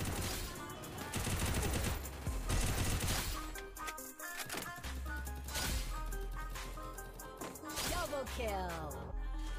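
UMP submachine gun in the game Free Fire firing in rapid bursts, loud dense clatter of shots mixed with game sounds and music, with a voice talking over parts of it.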